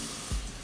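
Brief burst of water from a kitchen faucet on its spray setting, a soft hissing rush lasting under a second with a small thump midway, close and alone.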